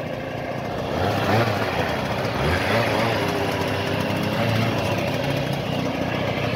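A Piaggio Ciao moped engine idles steadily nearby in near-freezing cold with a low, uneven putter, running continuously with faint wind noise.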